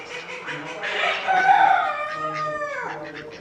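Rooster at a small animal show giving one close, loud drawn-out crow that rises and tapers off, with faint hall chatter behind it.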